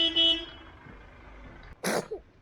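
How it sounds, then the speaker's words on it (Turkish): A short car horn honk sounds at the start, followed by quiet and then a sudden, sharp sneeze close by. "Korna çalıyorlar."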